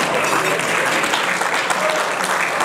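Brief, even crowd applause at an African awards and medal ceremony, a dense wash of many hands clapping at a steady level throughout.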